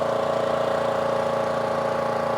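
An air compressor runs steadily and loudly close by while filling an Air Venturi Krypton airgun tank, a constant humming drone with a fast regular pulse and no voices.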